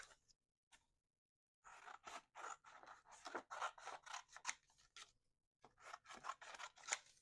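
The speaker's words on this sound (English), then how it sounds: "I'm gonna use my big scissors to cut these down so I don't have so much" Big scissors snipping through paper wire, a series of close, crisp crunching cuts in quick bursts separated by short silent pauses, quiet and alone.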